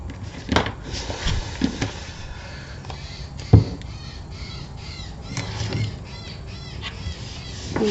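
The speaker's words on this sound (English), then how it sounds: "And now we've got the birds full of the joys of spring" Spring birds calling outdoors, with harsh crow-like caws and squawks scattered at intervals over several seconds among quieter background chirps and faint ambient noise.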